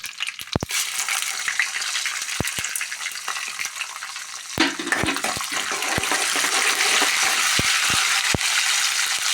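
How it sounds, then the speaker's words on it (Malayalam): Mustard seeds, chana dal and urad dal sizzling in hot coconut oil, a loud steady crackle punctuated by sharp pops as seeds burst, growing denser toward the end. "ഒന്നര ടേബിൾ സ്പൂൺ വെളിച്ചെണ്ണ വീട്ടിയിട്ട് അതിൽ കുറച്ച് കടുകിടാം പിന്നെ അര സ്പൂൺ കടല പരിപ്പും അര സ്പൂൺ ഉഴുന്നും പരിപ്പും"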